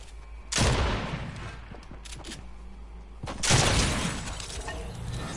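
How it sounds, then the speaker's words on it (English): Assault rifle fire in the Fortnite video game comes in two loud bursts about three seconds apart, with scattered sharp clicks and impacts in between. "This is the new AR"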